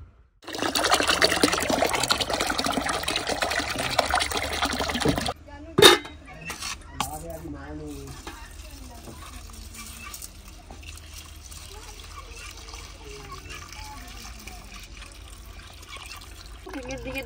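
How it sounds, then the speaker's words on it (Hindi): Chana dal being washed in water inside a wok in a village kitchen, with steady splashing and sloshing for about five seconds, a sharp clatter, then quieter trickling and handling under faint background sound. "कढ़ाई में मैंने पानी ले लिया है और अभी मैं धो रही हूँ जी"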